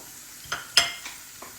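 Dal and curry leaves dropped into hot frying oil in a pan, giving a few short crackling sizzle bursts with brief pops, close up and with no talking.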